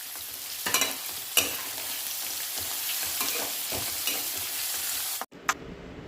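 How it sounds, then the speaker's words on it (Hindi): Green chili, carrot and capsicum stir-frying on high flame for a bread Manchurian make a loud, steady sizzle, with sharp clatters of stirring breaking through before the sound cuts off near the end. "हाई फ्लेम पर 2 मिनट तक सब्जियों को पका लिया है"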